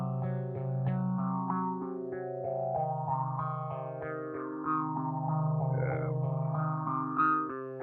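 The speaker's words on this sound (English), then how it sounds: "So let's enable the last slot and add a little reverb to this." A layered music track in a songwriting session plays with a touch of reverb added for airiness; sustained harmonic tones and chords continue steadily throughout, with a slightly spacious, washed tail and no voices.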